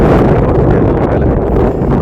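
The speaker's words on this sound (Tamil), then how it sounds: "காற்று வேறு அடிக்குது தூக்கிட்டு கடலுக்கு போயிடுமான்னு பயந்து" Strong wind buffets the microphone by the sea on the Atlantic coast, a loud, steady roar with gusty rumble filling the whole stretch without pause.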